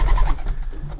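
Portuguese tumbler pigeons coo softly in a small coop, a low murmuring burble that runs steadily through the moment with no talking.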